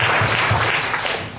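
A congregation at a church seminar in Timor-Leste claps in praise, producing a brief, dense, loud burst of applause with a low murmur beneath.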